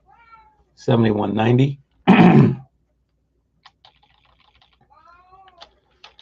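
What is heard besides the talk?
pet cat meowing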